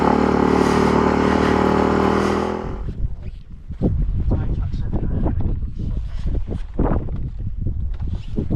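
A Kove 450 or KTM 990 adventure motorcycle on a snowy North Wales lane, a steady loud engine drone that cuts off abruptly, followed by wind buffeting and rumbling as someone talks over it.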